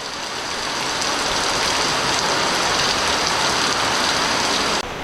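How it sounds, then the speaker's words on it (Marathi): Heavy rain pouring down in a steady, loud, dense hiss of drops striking surfaces, continuous and close with no voices. "कसला पाऊस पडतो आहे बघा एकदम तुफान भयंकर पाऊस आहे"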